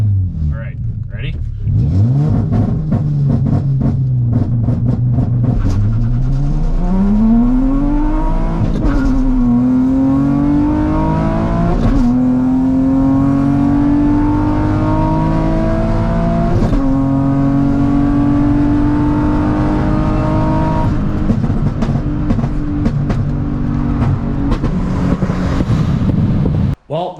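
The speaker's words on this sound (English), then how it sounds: "we'll do another launch. Launch number 2. We'll get some heat into the tires." A Nissan 350Z with a conversion launches hard from rest, its engine climbing through the revs with rising pitch and gear changes, loud and close in a sustained roaring run with clear exhaust note throughout.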